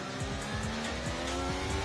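Formula 1 race cars pulling away after a safety-car restart at the Circuit of the Americas in F1 23, engines sweeping up through the gears in repeated rising whines, close and loud with tyre squeal.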